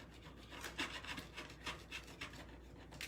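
A sanding block rubs back and forth across a small wooden piece for a faux bathroom holder, giving steady, close rasping strokes in a quick repeating rhythm.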